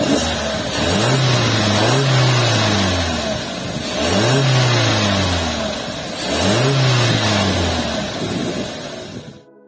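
A Suzuki XL7 Hybrid mild hybrid car engine starting and repeatedly revving up and settling back down, three rising surges over a steady idle, loud and close.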